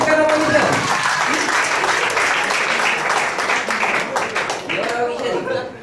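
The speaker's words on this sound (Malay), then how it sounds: "Bagi tepukan apa kita?" An audience breaks into loud clapping and applause that fades slightly toward the end, with voices calling out over it.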